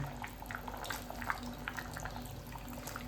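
Crab curry with ground masala boils in a pot, giving a faint, continuous bubbling and popping with a low steady hum beneath, and no talking.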